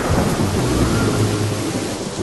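Steady heavy rain with rumbling thunder rolling underneath, a dense continuous wash of noise throughout with no voices.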